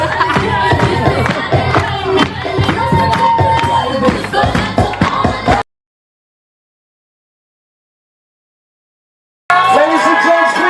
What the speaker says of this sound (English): Big guys cheering and clapping.